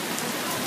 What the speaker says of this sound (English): Look at the rain. So pretty.